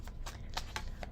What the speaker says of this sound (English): So I've thoroughly shuffled the second deck.